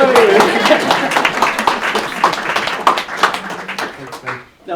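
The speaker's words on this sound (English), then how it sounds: "A big final applause for Tshinta, Tim, Jet, Lisa, Stephen" Audience applause at a NAIDOC Week Indigenous entrepreneurship meetup: a burst of clapping that fades over a few seconds, mixed with cheering and people talking over it.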